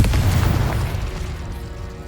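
A Confringo fire spell explodes in Hogwarts Legacy, a loud, deep, rumbling boom that fills the whole moment and slowly fades out.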